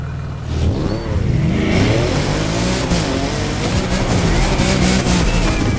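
A GT2 race car in The Crew Motorfest roars loud and close, its engine revving steadily with the pitch climbing and sliding as it accelerates, continuous for several seconds.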